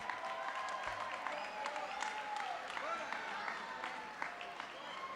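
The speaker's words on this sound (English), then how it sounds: "let's hear another big round of applause for Casey and Jenna" Applause and crowd noise at a corporate boxing event, clapping mixed with whistles and cheering voices, moderately distant and steady.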